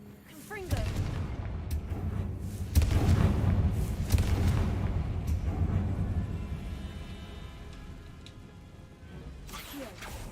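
Confringo fire spell explosions in Hogwarts Legacy, heavy booming blasts that rumble and fade over several seconds, with a second burst partway through and game ambience around them.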